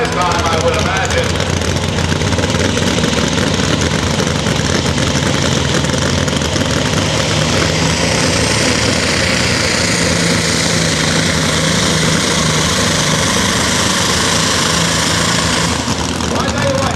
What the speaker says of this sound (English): Jim never got the RPMs I was expecting out of that tractor